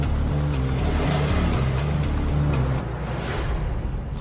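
A car pulls away and drives off, its engine droning steadily and close, then easing slightly as it moves away, with no voices.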